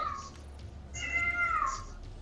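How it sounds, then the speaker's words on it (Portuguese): A cat in heat meows in drawn-out, wavering cries, two long calls close by and fairly clear over a low background hum. "Tem um gato no cio aí, cara."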